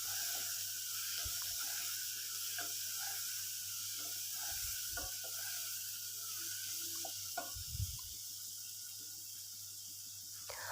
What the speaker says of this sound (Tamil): இதையும் ஒரு நிமிஷத்துக்கு நல்லா வதக்கி விட்டுக்கலாங்க